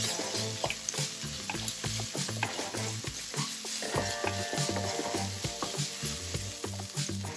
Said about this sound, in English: I'm going ahead and adding these chopped coriander stems to the stir fry